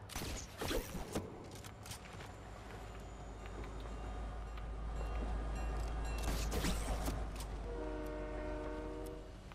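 Fortnite train passing in the game, a low rumbling roll of wagons with sharp clanks, then a sustained multi-tone horn near the end, moderately loud and without talk.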